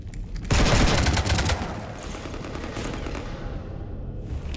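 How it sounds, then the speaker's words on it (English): Sustained automatic gunfire shooting up a ship in Mass Effect 3 bursts in loudly with a rapid rattling volley, then settles into a lower continuous roar of firing and impacts, with no talking. "You want to stop shooting up my ship?"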